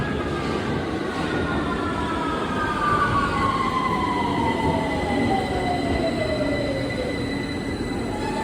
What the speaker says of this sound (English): there's a train going to Brixton and it is approaching